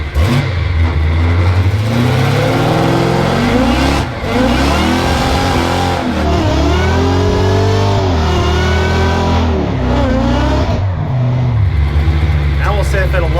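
A car engine revs hard and loud from inside the cabin, rising and falling repeatedly in pitch as it is held at high revs for a launch, with a voice speaking over it.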